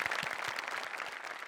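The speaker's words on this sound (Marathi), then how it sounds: "त्या दोघांसाठी जोरदार टाळ्या झाल्या पाहिजे" Applause from a studio audience at a Marathi comedy show, a dense steady patter of many hands clapping at once, fairly loud and continuous with no voices on top.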